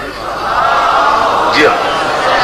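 A large crowd at a religious gathering roars out a loud collective salawat chant, a dense wall of many voices sustained throughout, with one rising shout above it.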